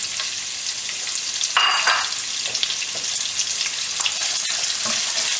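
Diced white onions, about 150 grams, sizzle steadily in a hot pan for a chicken curry, with a louder burst of crackling partway through and scattered pops and scrapes of stirring, no talking.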